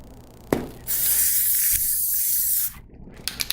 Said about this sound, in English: Take our spray glue.